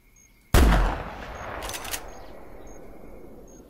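Rifle shot at a water buffalo in the hunting game theHunter Classic, one sharp loud blast followed by a long fading echo and a later crackle as the reverberation dies out.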